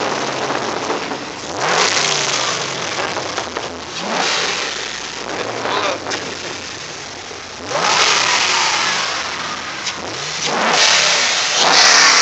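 A Chevrolet Camaro engine revs hard in repeated loud bursts, each climbing and falling back to a rough idle, close by with no talk.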